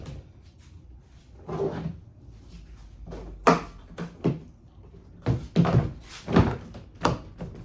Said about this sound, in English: Latches in, and you notice when I drop it in, it slides over.